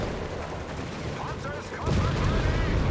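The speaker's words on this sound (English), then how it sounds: "Soldiers here though being ripped apart by heavy German focused fire." Company of Heroes 3 battle with heavy German focused fire tearing into soldiers: rapid overlapping gunshots and machine-gun bursts, swelling louder near the end, under a caster's commentary.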